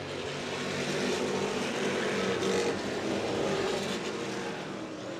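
Race cars thunder around Twin State Speedway in Claremont, New Hampshire, during an ACT B feature, a dense, loud, continuous engine roar with cars passing close by.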